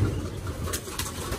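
Low, soft cooing from a flock of racing pigeons in a loft, continuous and close under steady background noise.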